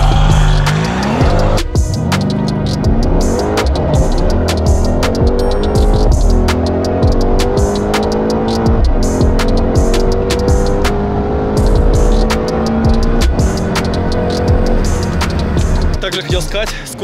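A Mercedes C63 AMG, rear-wheel drive, drag races an all-wheel-drive BMW X6 with a 5.0D engine from the first stage: loud, continuous engine roar and revving with tire squeal and skidding throughout, close by, with voices over the noise.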